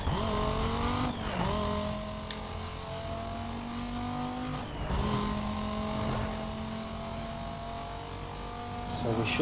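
A race car in Need for Speed: Most Wanted drives a final lap, engine droning at steady high revs with shifts and brief dips into turns, loud and continuous with some tire noise.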